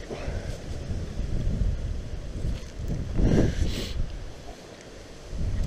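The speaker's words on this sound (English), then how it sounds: "So that wind's never died down." Strong wind buffeting the microphone on an open hillside, a continuous loud roar with heavier gusts swelling midway and easing toward the end, no talk.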